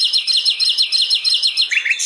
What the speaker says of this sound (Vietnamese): Tiếng chim kêu thánh thót nghe thật vui tai